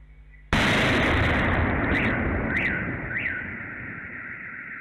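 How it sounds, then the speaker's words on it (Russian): A sudden loud explosion on a children's sports ground, picked up by a CCTV camera: a sharp blast followed by a long rumbling decay, with a few faint chirps in the background. "что-то там делал, а затем взрыв."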